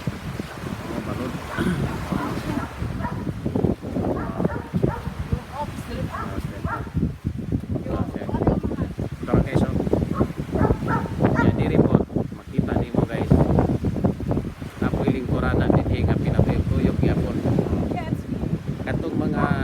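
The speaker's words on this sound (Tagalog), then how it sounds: "balod karon balod kunya kusog ang hangin" Strong wind blusters over a small boat at sea with waves slapping, a loud, continuous rush of gusting air and water noise buffeting the microphone, with a voice speaking intermittently underneath.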